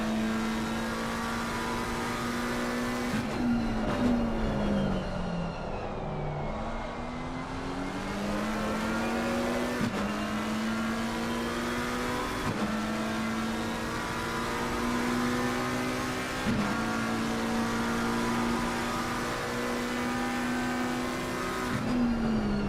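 An Audi R8 LMS race car at Valencia in a sim racing game, its engine droning loud and close throughout, pitch climbing through the gears with sharp shift breaks and a dip while braking, then rising again.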